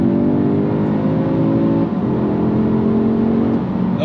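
A 2022 Audi S3 accelerates hard from interstate speed in the Colorado mountains, its engine note climbing steadily and loud from inside the cabin, with a quick gear change about midway before the pull resumes.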